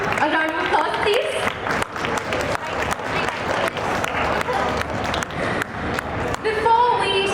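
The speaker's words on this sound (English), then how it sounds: "A round of applause, please." An audience at a book launch during a panel event at the Pune Book Festival applauds. The clapping is dense and sustained, swelling slightly, with some voices mixed into the crowd noise.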